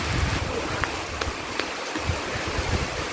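Heavy rain pours steadily at Sinagtala resort near a swimming pool, with a mountain behind, making a dense, constant hiss and wash with no break.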